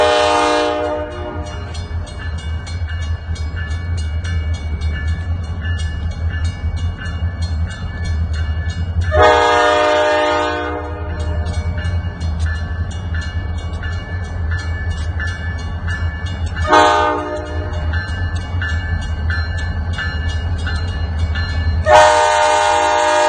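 An SD40-3 diesel locomotive, QGRY 6908, sounds its horn in four loud, close blasts of a rich multi-note chord over a steady engine rumble, the first and last blasts longer and the middle two shorter.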